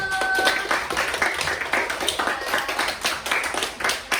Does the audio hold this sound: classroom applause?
yes